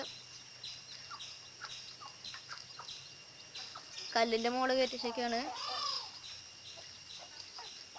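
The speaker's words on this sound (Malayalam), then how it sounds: "കോഴികൾ" Chickens kept in a homemade backyard coop beside rabbits. One hen gives a loud, drawn-out squawking call over a couple of seconds, while someone talks quietly and a steady electrical hum runs underneath.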